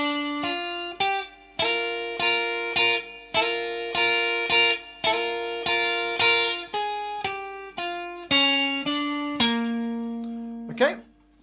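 Electric guitar playing a song's intro phrase: a run of bright, distorted double-stop bends and repeated picked notes in a quick rhythmic pattern, ending on a sustained note with a final scrape, loud and alone.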